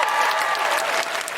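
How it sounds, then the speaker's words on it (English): An audience in a live comedy podcast recording claps enthusiastically, a dense, steady burst of applause that tapers slightly toward the end. "Bigger applause for Jill."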